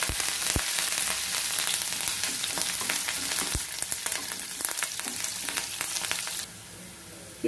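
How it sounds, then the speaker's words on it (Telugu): Chopped onions and curry leaves frying in hot oil for an eggplant curry, a loud, close, continuous sizzle with crackling pops and occasional stirring clicks, easing slightly toward the end. "కట్ చేసుకున్న ఉల్లిపాయ ముక్కలు కూడా వేసేసుకుందాము అలాగే ఈ కరివేపాకు కూడా వేసుకుని ఉల్లిపాయలు కొంచెం వేగాలి"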